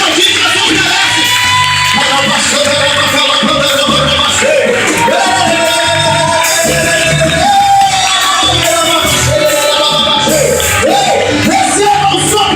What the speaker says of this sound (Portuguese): Pode aplaudir mesmo, pode aplaudir que nós vamos merece.